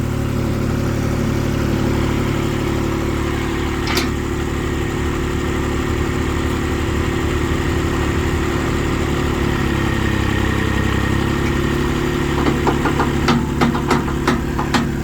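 A Hinomoto E2604 tractor's heavy diesel engine runs under load as its front loader lifts the tractor, with a deep, continuous rumble that shifts in pitch midway, as if straining; a few sharp clicks near the end.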